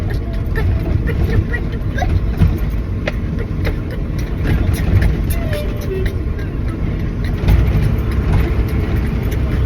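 A 1996 Ford F800 knuckle boom crane truck with a 5.9 Cummins diesel is driven at low speed. Its engine drones steadily from inside the cab, and someone talks over it.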